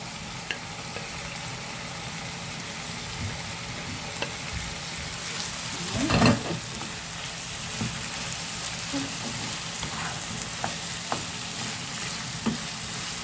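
Liver and peppers sizzle and fry steadily in a pan, a constant crackling hiss with a brief louder burst of sizzling midway, close up and without talk.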